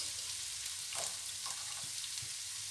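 Keema sizzling in a pan with spices and tomato sauce, a soft steady frying hiss with a few faint stirring scrapes, fairly quiet and without voices.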